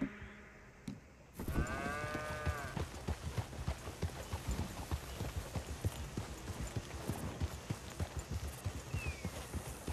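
Hooves clip-clop at a steady riding rhythm in the Red Dead Redemption II video game, loud and close, after a brief quiet start with a short tonal sound.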